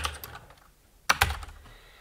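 A short message is typed on a computer keyboard, a few quick key clicks, then a pause, then a couple of sharper louder taps close to the microphone.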